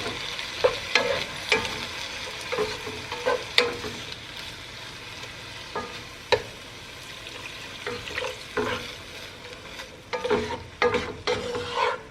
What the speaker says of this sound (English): make sure you're scraping the bottom really good to get all the juices out, or mixed in really well.